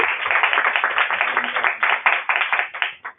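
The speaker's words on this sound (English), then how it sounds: "I'll just do a round of applause virtually and in person." A small audience claps at the close of a learning event panel, a short burst of fairly dense, close hand claps that thins out toward the end.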